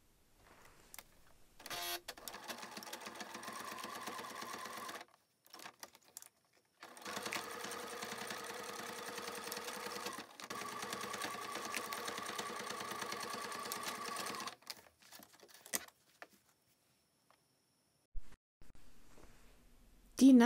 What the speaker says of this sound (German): jetzt werden die beiden Seiten mit 1 cm Nahtzugabe zusammengenäht.